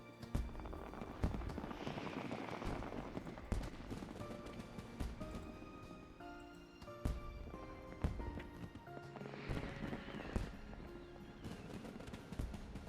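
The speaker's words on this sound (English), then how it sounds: "Look at these fireworks out here, man." Fireworks pop and crackle in a Final Fantasy XIV town scene, scattered sharp bangs repeating over a dense bed of game music and ambience across the whole stretch.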